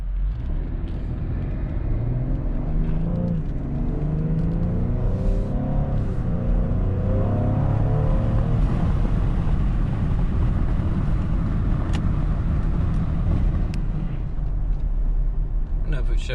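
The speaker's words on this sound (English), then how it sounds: "you can hear a little bit more of intake sound, so it definitely is a little bit louder than the stock intake" A 2020 Ford Explorer ST fitted with an aFe aftermarket intake drives along, its engine drone and intake note rising and falling in a continuous, fairly loud rumble heard from inside the cabin.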